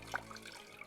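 Water runs steadily from a tap over butter wrapped in cheesecloth as the buttermilk is rinsed out, a close, soft continuous splash and trickle.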